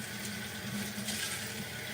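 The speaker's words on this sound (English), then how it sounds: "Alright, I'm going to rinse the bottom." Running water from a tap pouring over the bottom of a cast iron skillet in a kitchen sink, a steady close hiss and splatter with no talking.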